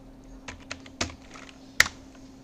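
A few sparse keystrokes on a computer keyboard, quiet and close, with one sharper key press near the end.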